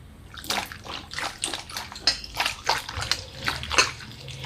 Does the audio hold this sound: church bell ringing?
no